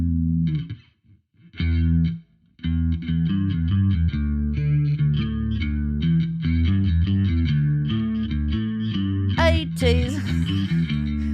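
Post-punk bass guitar run through effects pedals with distortion and chorus, a thick, wobbling melodic line repeated riff after riff with brief pauses near the start and a sharp squealing burst near the end.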